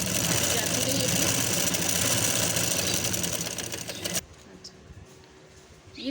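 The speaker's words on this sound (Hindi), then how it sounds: "यहाँ से जो है हम अपनी सिलाई शुरू करेंगे, ऐसे बिल्कुल सीधी सिलाई, सीधी सिलाई नीचे तक" A sewing machine running a straight stitch down a sleeve while elastic is being attached, a loud steady rapid whir close by that cuts off suddenly after about four seconds and leaves a quiet room.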